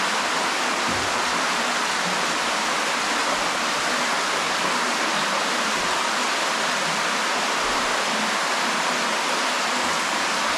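Water rushes steadily through a cave stream passage in Deadhorse Cave, a dense, even roar of flowing water that fills the space continuously without a break.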